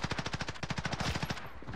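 Rapid automatic gunfire from a first-person shooter video game, a fast burst of roughly a dozen sharp shots at a steady rhythm, loud and close, that thins out into a short decaying tail.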